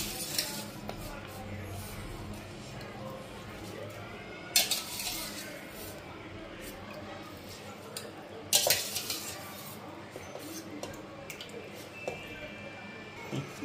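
Soaked rice being stirred into a pot of vegetable biryani made with bottle gourd and yogurt, with repeated scraping and utensil clinks against the pot, two sharper knocks standing out over a steady low background rumble.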